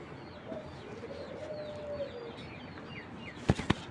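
Giribaz pigeons handled by a seller, with faint chirps and wing movement through a quiet background, ending in two sharp close flutters or clapping bursts of wings near the end.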